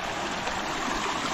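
Water of a swollen stream flowing right beside a house, a steady broadband rush with no pauses, close and fairly loud throughout.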